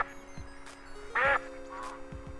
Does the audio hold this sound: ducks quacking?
yes